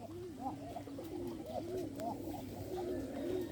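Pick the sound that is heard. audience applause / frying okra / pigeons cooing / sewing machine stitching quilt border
pigeons cooing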